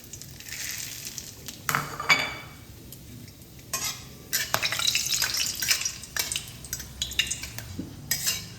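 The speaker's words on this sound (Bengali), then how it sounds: "গরম তেলে ফোড়ন দিয়ে দিচ্ছি 2টো তেজপাতা, 1টা শুকনো লঙ্কা, 4টে লবঙ্গ, 4টে এলাচ, 2টো দারচিনি দানা" Whole spices, bay leaves, a dry red chilli, cloves, cardamom and cinnamon, sizzling in hot oil for aloo dum, crackling in bursts with metal spoon scrapes and clinks against the pan, close, no voices.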